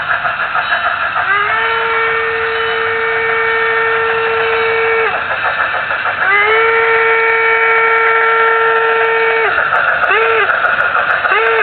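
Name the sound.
steam locomotive whistle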